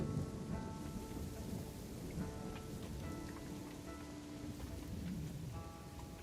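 Rain and thunderstorm in the video game Assassin's Creed Shadows, a steady wash of falling rain with low rumbling thunder throughout, fairly faint and without talking.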